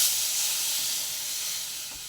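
A strong hiss of steam rises as water hits a hot pan, loud and close at first and then slowly easing off over a couple of seconds, with no talking.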